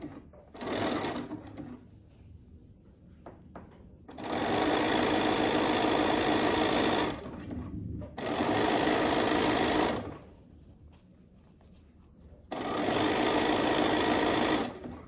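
A sewing machine runs a wide zigzag basting stitch on a lining with an underbust band, whirring loudly and steadily in several long bursts separated by brief pauses.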